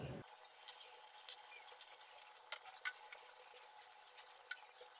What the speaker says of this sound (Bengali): এখন আমি চিংড়ি মাছগুলোকে একটু হালকা করে ভেজে নিব।